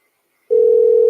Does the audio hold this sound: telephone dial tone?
yes